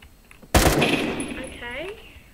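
Loud burst of machine gun fire in a Roblox first-person shooter arena game, a sudden rapid volley that rings and fades over about a second and a half.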